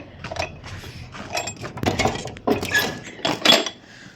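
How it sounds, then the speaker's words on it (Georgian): Dishes, pots and cutlery clink and clatter irregularly at close range while being washed in a kitchen, with several sharp knocks and rattles and no talking. "ესე იგი პარტია ჭურჭელი."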